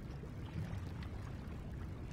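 Water gushes in within the side-scrolling game Inside: a faint, steady rushing and pouring wash with no pause over about two seconds.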